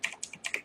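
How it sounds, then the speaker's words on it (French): Five quick keystrokes on a mechanical computer keyboard during a DOOM game session, crisp and close, clacking in an uneven rhythm. "Là, on est content d'avoir un clavier mécanique."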